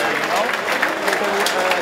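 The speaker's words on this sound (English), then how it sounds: "let's have a round of applause" Arena crowd applauding at an MMA fight event after a three-round bout, dense steady clapping and cheering that fills the whole moment at close, even loudness.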